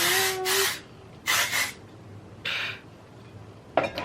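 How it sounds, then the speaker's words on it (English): A hair texture spray is applied to short hair in four separate bursts. The hisses are brief and close, with quiet pauses between them. "So next I go in with texture spray."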